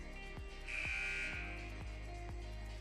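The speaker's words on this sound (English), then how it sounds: "Buzzer sounds." A shrill electronic buzzer blares for about a second inside a high school basketball gym at a Thanksgiving tournament game, rising over a steady arena hum with faint rhythmic thumps.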